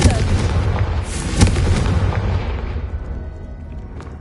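A Confringo spell in Hogwarts Legacy bursts in a loud, close explosion with a heavy low boom and crackling debris, then a second bang follows and the rumble fades over several seconds.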